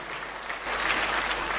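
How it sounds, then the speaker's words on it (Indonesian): Brief burst of congregational clapping inside a church, a steady wash of many hands that swells slightly partway through. "Tepuk tangannya paling meriah buat Tuhan."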